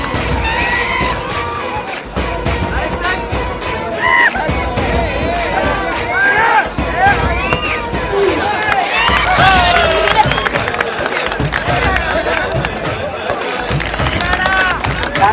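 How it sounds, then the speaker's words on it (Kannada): Spectators at a rural sports contest held by a factory clap, whistle and cheer the competitors in a dense, loud, continuous din of shouting voices and rising whistles. "ನೆರೆದಿದ್ದ ಜನರಂತೂ ಚಪ್ಪಾಳೆ ತಟ್ಟಿ ಸಿಳ್ಳೆ ಹಾಕಿ ಸ್ಪರ್ಧಿಗಳನ್ನ ಹುರಿದುಂಬಿಸಿದ್ರು."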